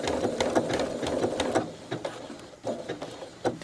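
A sewing machine runs a straight stitch through quilting fabric in bursts, a steady close mechanical whirring that pauses briefly and restarts several times, with no talking.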